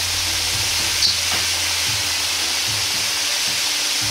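Soy sauce splashed into a hot wok already holding vegetables and Shaoxing wine, producing a loud, steady sizzle and hiss that fills the whole stretch without a break.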